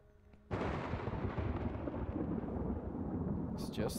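A sudden loud thunder crack in the horror game Horror Tales: The Wine bursts in after a quiet moment, then rolls on in a dense, sustained rumble to the end.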